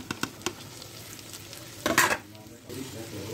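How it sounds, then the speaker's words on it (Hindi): Black chickpeas being dry-roasted and stirred in a pan: a few sharp clicks of a spoon, then a brief louder scraping rustle and soft frying noise, close and without talk. "थोड़ा सा और इसे भूनना है बस, फिर ये तैयार है।"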